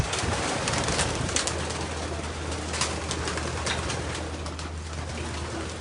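Soft, repeated cooing of many pigeons together in a loft, a low murmuring chorus with occasional flutters and a steady background hum.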